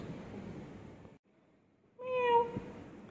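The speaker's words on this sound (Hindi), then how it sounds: "दो बिल्ली आपस में बात करते हुए" A cat meows in a rising, drawn-out tone after a stretch of quiet, with a steady background rumble before it; no clear second cat is evident.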